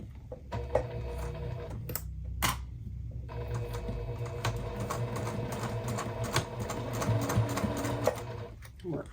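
A sewing machine stitches the lining of a crossbody bag, running steadily and close with a rapid mechanical rattle, pausing briefly near the start before continuing for several seconds.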